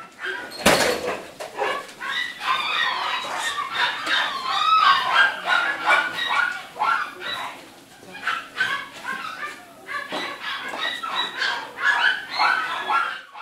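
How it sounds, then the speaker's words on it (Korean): A kennel full of dogs barks, yips and whimpers excitedly at feeding time, a continuous chorus of overlapping close barks with high-pitched whining. "왜 이렇게 신나 했더니 바로 강아지들의 식사 시간이었네요"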